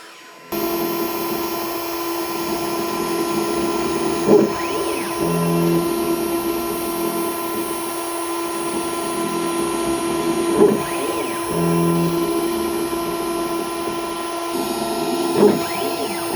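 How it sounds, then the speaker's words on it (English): A CNC machine cuts fret slots into a guitar blank, giving a steady close whine with a tonal hum and a few sharper rises. "sent it to the controller for the CNC machine, and I actually cut the file"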